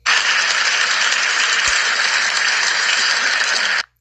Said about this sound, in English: they're clapping as he's coming out